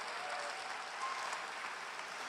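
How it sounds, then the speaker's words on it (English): Steady applause from an audience at an innovation awards ceremony, a dense even wash of clapping throughout with no voices above it. "big round of applause again"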